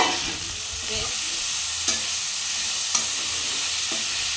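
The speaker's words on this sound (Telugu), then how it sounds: "ఇలా వేయించుకోవాలండి వేయించిన కదండి అందులోనే ఉల్లిపాయ ముక్కలు కూడా వేసేసుకోవాలి" Onion pieces fry in a pan for a tamarind leaf curry, giving a steady, close sizzle, with a few soft clinks of a stirring spoon at intervals.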